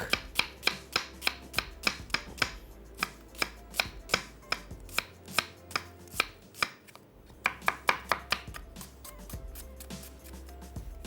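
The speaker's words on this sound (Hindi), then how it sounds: "प्याज, और इसको हमने स्लाइस कर लेना है" Onions being sliced thin with a knife on a cutting board, a quick steady run of crisp chops close by that pauses briefly partway through and then resumes, with no speech.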